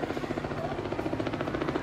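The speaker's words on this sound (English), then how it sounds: "Let's see if we can catch the helicopter." A helicopter passing over an outdoor swimming pool in Orlando, its rotor beating in a steady, rapid chop that stays fairly loud for the short stretch.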